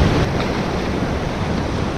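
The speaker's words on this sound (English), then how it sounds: "The sound of that ocean, waves crashing," Ocean waves crashing on a sandy fishing beach, a loud continuous wash of surf with wind rumble and no distinct breaks, heard without any voices.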